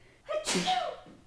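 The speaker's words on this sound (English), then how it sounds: "I'm going to sneeze again." One close, sharp sneeze from a person outdoors beside a fence in a garden, a short intake of breath and then a sudden burst that fades within a second.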